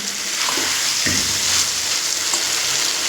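Egg and pointed gourd curry frying in a pan with salt, giving a continuous close sizzle and a few scraping stirs.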